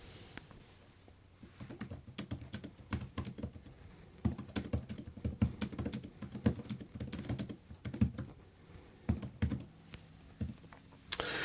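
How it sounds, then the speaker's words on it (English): Close, irregular keystrokes patter in quick bursts with short pauses, a soft clattering of typing on an e-ink tablet keyboard folio with no voices. "let's go ahead and do a little bit of typing"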